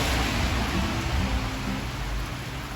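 Steady, even hiss of rain falling, a dense wash of noise with no pauses or voices.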